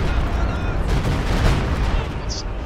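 Walking Stuka rocket artillery fires in a Company of Heroes 2 battle, a loud, dense rumbling barrage of blasts that rolls on without pause for a couple of seconds.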